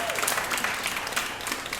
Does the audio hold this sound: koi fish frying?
no